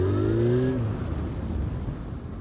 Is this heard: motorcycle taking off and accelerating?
yes